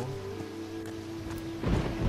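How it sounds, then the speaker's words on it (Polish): Rain patters steadily in the fantasy game Risen, and a low roll of thunder swells toward the end. "Ten deszcz denerwuje trochę."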